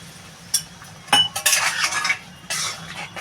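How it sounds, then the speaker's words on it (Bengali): Ridge gourd poppy-seed curry is stirred and sautéed in a pan, a spatula scraping and clinking against the metal in a few uneven bursts, close up, over a quiet background. "এটা ভালো করে এবার কষাবো"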